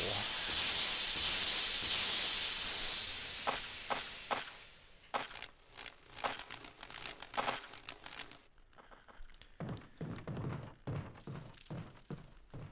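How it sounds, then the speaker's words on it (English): Insecticide spray pumped into a hole in a wall in the Resident Evil Remake, a loud sustained hissing blast for several seconds, followed by softer scattered thumps and clatter. "pump the insecticide spray"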